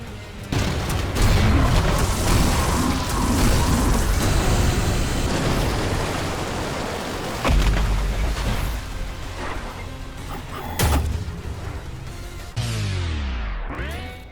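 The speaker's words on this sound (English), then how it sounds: "Explosions in this game are weird" Rocket launcher explosions in the shooter game ULTRAKILL: a rapid series of heavy booms and crashing blasts, loud and close, with gunfire bursts and a sharp final impact, no talk over them.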